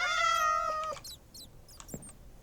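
A Minecraft cat gives one clear, high, tonal meow up front, followed by a few faint chirpy squeaks. It sounds close, with no talking.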